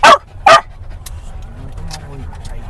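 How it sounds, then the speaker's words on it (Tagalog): A dog gives two sharp, loud barks close by, then fainter yips and whimpers follow over a low rumble of a car interior. "Kanina pa yung tahol ng tahol eh."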